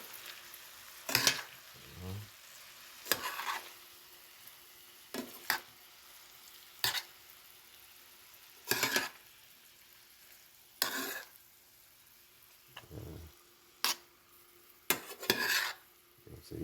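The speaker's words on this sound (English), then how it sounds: "Yeah, stir it up a bit." Callaloo greens being stirred in a pot: about eight separate scraping, clattering bursts of a spoon against the pot, spaced irregularly over a quiet, steady background with no talking.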